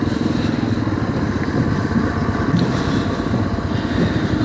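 A motorcycle rides along a wet monsoon road between Mumbai and Pune, its engine giving a constant close rumble with faint clattering and road noise and no talk.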